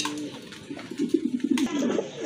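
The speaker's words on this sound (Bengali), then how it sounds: "এক জোড়া ঝর্ণা শাটিন কবুতর," A pair of satin pigeons coo close by, a run of soft, throaty, bubbling coos building through the middle and continuing to the end.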